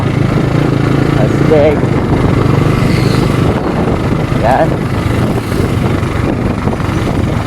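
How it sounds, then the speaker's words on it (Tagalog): Big motorcycle engine running steadily throughout at close range on an outing in Cataingan, Masbate, with a continuous loud drone and wind rush, while people talk over it in short bursts. "So malaki yung motor namin ngayon guys"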